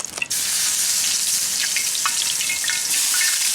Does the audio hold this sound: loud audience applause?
no